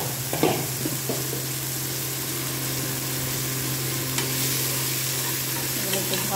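Potato, carrot, capsicum and long beans fry steadily in a pan for sabudana pulao, a continuous close sizzle with a few brief stirring clatters near the start and a low steady hum underneath.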